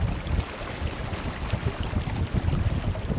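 On a boat at sea, wind gusts buffet the microphone in a rough, uneven rumble, with faint water sounds and no voices.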